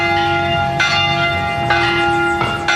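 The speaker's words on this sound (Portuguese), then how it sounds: "as badaladas das 3 igrejas voltaram a ecoar juntas" Bells of three churches in one of the oldest districts of Salvador ring together on Christmas, a loud sustained metallic toll with fresh strikes roughly every second, layered hum ringing on continuously with no talk.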